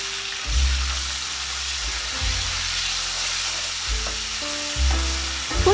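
Onions frying with a splash of water for a Haitian salt fish sauce crackle in a loud, continuous sizzle close up, with a low steady hum running underneath.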